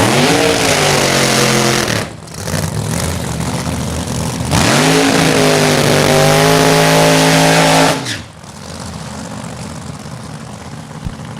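Funny car drag racing engine at Mo-Kan Dragway roaring very loud and close, with rising revving sweeps broken by two short cutoffs before dropping to a quieter rumble.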